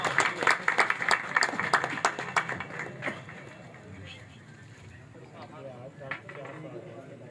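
Audience applause at a pigeon fanciers' function in Faisalabad, loud dense clapping at first that thins out after about three seconds into scattered claps under murmuring crowd voices.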